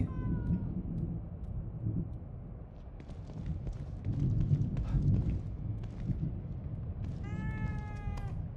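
A cat meows in the survival horror game The Evil Within 2, a few drawn-out mews rising over a low, rumbling game ambience, with a clearer, louder meow near the end.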